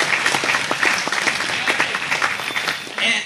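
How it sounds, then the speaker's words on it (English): Audience applause at a Harris County Republican Party congressional candidate forum: a dense, steady burst of clapping from a crowd, held at an even level for several seconds before easing off. "So let's give them a round of applause."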